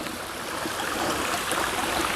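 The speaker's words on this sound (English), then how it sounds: "Here's a nice little stream." A small stream flows beside a mountain trail on the Appalachian Trail, a steady close wash of babbling water with no voices.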